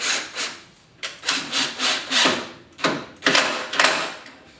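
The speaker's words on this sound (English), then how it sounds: "Just get a clamp and screw it together." Wooden lattice pieces are held in a clamp and screwed together during assembly of a standing lattice. The work gives close, loud, rhythmic grinding and rubbing strokes repeated about eight times, with brief pauses between them.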